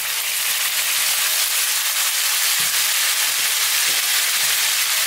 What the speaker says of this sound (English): we've just browned the outside of the meat